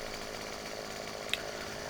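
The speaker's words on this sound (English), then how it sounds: "Fire up our chainsaw." Chainsaw starting up in the game Farming Simulator 17, a faint continuous buzzing engine whine with one short sharp click partway through.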